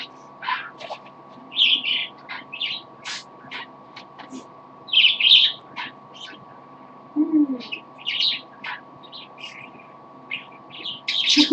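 A pet parrot makes chirpy, bubbly water-like sounds indoors, a string of short bright tweets and gurgles in quick bursts, close to the listener, under a steady low hum.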